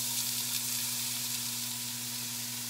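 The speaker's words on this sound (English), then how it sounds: "I will try to talk over the sizzling of the veggies." Chopped celery, carrot and onion sizzle loudly and steadily in a hot pan, a continuous crackling hiss with no talking.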